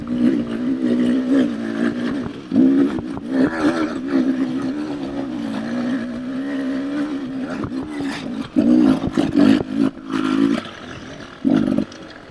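A 2024 Beta 300RR Race Edition dirt bike engine pulls steadily up a hill, a loud, close, continuous drone that holds an even pitch before rising in sharper surges of revving near the end.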